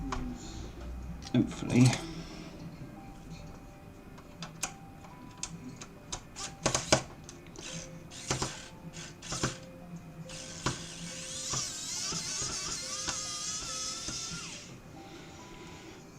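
Small screws are worked out of a Nintendo GameCube console case, giving scattered light ticks and clicks with a steady mechanical whir partway through, close and quiet, with a person speaking now and then.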